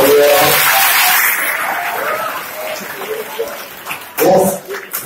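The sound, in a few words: applause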